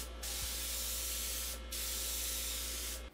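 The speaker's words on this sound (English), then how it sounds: "I've adjusted my spray gun again to fan out a little bit more and release a little more paint" A paint spray gun set to a wider fan and heavier flow coats a thrifted tallboy dresser with a steady, loud hiss, briefly stopping twice and restarting, with no talking.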